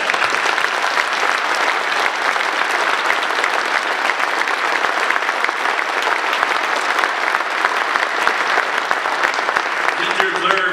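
A large audience applauds steadily at a speech event, a dense, even wash of clapping that holds at full strength throughout with a few faint voices underneath.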